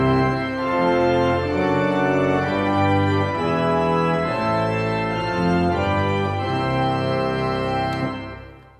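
The Taylor Concert Organ's great organ played with all stops out, a loud, full-bodied sustained chord texture rich in layered pipe tones, changing harmonies over several seconds before releasing near the end.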